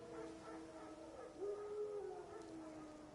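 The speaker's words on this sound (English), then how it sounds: "No. Wild dogs." Wild dogs howling in a video game, faint distant drawn-out wavering howls rising and falling over a low ambient rumble.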